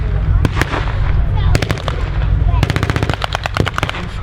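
Battle reenactment at the Bovington Tank Museum's Kuwait Arena during Tankfest 2022, US infantry firing on German defenders: loud repeated bursts of automatic gunfire and single shots over a rumbling background, with a voice faintly beneath.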